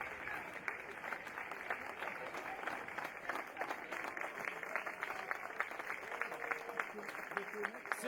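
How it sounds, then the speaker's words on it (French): An audience at a youth sports tournament parade applauds a girls' best-scorer trophy presentation, with steady dense clapping from a crowd that holds throughout, fairly distant and even. "On l'applaudit, regarde le public, Océane."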